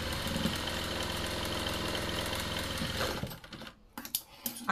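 A sewing machine stitches blouse fabric in a quick, even mechanical run for about three seconds, then stops, leaving a few faint handling clicks and rustles.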